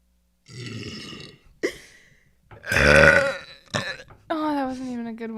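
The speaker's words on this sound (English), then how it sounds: "You want to hear a real burp?" A person produces a long, loud burp, with a few shorter throaty bursts and brief voice sounds around it, close to the microphone.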